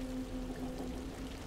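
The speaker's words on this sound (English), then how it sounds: "I think that's supposed to be water" Steady faint rush of flowing water in the video game Kholat, a soft continuous pour or stream with a low hum running underneath, alone without voices.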